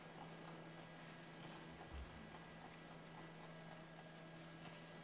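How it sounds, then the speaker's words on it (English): Rain falling in the game Going Medieval, a steady even wash of noise with a low hum underneath, unbroken for the whole stretch. "Alright, and it's raining now."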